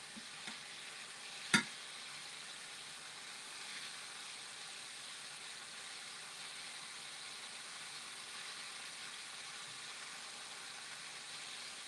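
Pork chops sizzle and fry steadily in a pan after being flipped, a soft continuous hiss with one sharp brief crackle or clatter early on, no voices.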